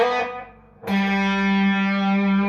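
Distorted electric guitar plays a slow phrase: a fading note, a short pause, then a fresh attack ringing out as a long, thick sustained tone, close and loud, with no talking.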